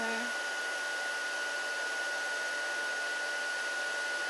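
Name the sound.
heat gun melting embossing powder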